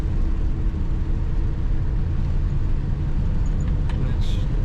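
A 1958 Chevrolet Corvette convertible's engine rumbles from inside the car as it drives in fourth gear, a steady, deep, continuous drone with road noise.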